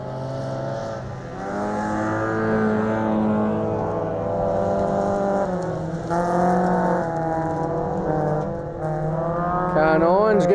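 All-sedan race cars at Cullen Bullen speedway roar around the track with sustained, rising and falling engine drones and revving passes, while a commentator talks over them throughout.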